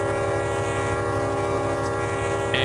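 A train runs in the Run 8 Train Simulator video game, with a steady, loud rolling rumble and sustained horn-like tones. There is no talking.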